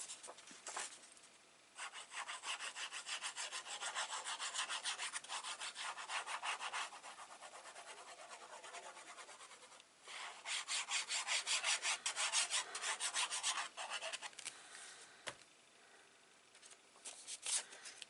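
A craft knife or trimmer slices excess paper from a small photo mat for an 8 x 10 mini album, giving steady rasping, rubbing strokes in two long bursts with a short pause between, close and fairly quiet, with no talking.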